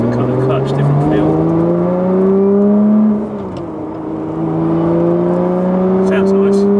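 A Lotus Evora 400 or Porsche Cayman GT4 sports car engine revs loudly and close, its tone climbing steadily, dropping briefly as the throttle lifts, then climbing again.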